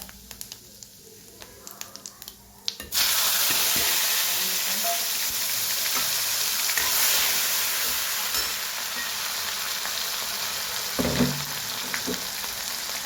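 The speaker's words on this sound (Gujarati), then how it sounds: "એના માટે મેં 3 પડી તેલ લઈને તેમાં જીરું એડ કરીશું, હિંગ," Cumin seeds and asafoetida hit hot oil in a pan at home and burst into a loud, continuous sizzle after a few quiet seconds of faint clinks, the frying hiss holding steady to the end.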